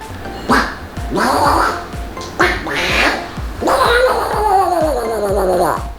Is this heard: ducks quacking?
yes